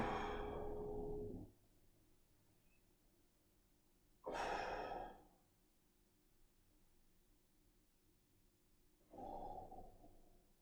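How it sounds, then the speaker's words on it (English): Three slow, deep exhalations during a home mobility and stretching workout, each a broad airy rush of breath lasting about a second, separated by long quiet gaps, close to the microphone with no talk. "Let's go 3 more deep breaths."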